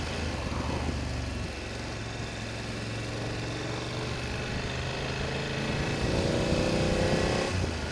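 BMW F900 GSA motorcycle engine under way, a steady close throaty drone with rising pitch as it pulls, overlaid by constant wind rush, no talk.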